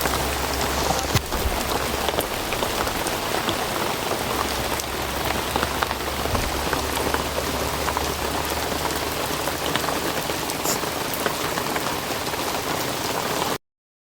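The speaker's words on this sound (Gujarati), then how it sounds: "મિત્રો ખાતર નાખવાનું ચાલુ હતું ને વરસાદ આવી ગયો।" Steady, heavy rain pours down on farmland, drumming on surfaces in a dense, unbroken hiss that holds at the same loudness throughout and then cuts off abruptly, with no voices.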